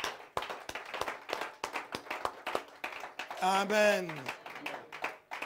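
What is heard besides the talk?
church congregation applauding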